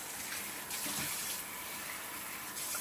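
Water poured into a pot of stew while cooking, a steady gushing splash that continues throughout, moderately close with no talking.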